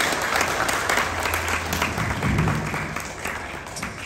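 An audience at a Manila event gives a loud, sustained round of applause to welcome performers, many hands clapping in a dense, even roar with faint crowd murmur underneath.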